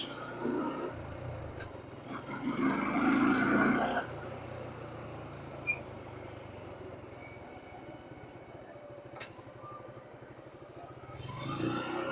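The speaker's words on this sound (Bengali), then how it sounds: "ইঞ্জিনের থেকে কিছু আওয়াজ হইতাছে" A Suzuki Gixxer motorcycle engine with a suspected engine noise, idling and revving nearby, with a louder rev surge early and again at the end, a faint rattle, and a low steady rumble between.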